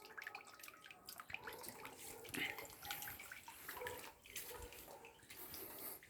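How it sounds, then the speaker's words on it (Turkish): Water runs steadily in a home garden with a wooden trellis, a continuous splashing, trickling flow close by that fills the whole stretch without pause. "Bu şekilde su sesi dinleyerek huzur buluyoruz."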